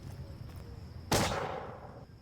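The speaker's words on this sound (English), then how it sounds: "The first of the bullets have been shot, but I fear it was a bit premature" A musket volley from a firing line in an Empires of Europe battle game breaks out as one sharp, loud crack that decays into a rumbling tail over quiet ambient game noise.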